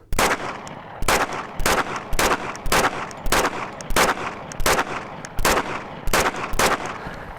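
Springfield Armory XDM Elite 10mm pistol fired in a steady string of about eleven loud, sharp shots, evenly spaced roughly two-thirds of a second apart, each ringing out briefly with no talk between them.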